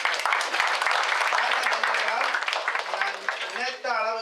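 Applause from a crowd at a Murugan temple Vettai Thiruvizha festival in New Malden, Surrey, UK: dense, steady clapping sustained throughout, with voices talking over it near the end.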